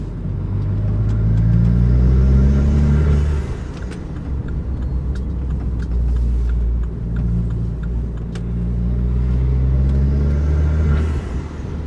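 A forged Vauxhall Corsa VXR engine drones loudly from inside the car on a spirited drive, rising through the revs in two climbing pulls with a steady rumble between them.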